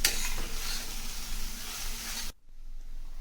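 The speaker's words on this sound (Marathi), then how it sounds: "ह्या बीटबरोबर अजून 5 मिनिटं आपल्याला परतून घ्यायचे आहेत" Grated beetroot with dry fruits sautés in a pan for halwa, a steady close sizzle and hiss with faint stirring that cuts off abruptly near the end.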